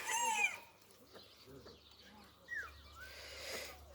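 Scattered hen clucks and a few higher squawks around a quiet village yard, with faint murmuring under them and some low background rumble.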